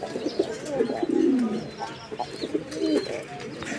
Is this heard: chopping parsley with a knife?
no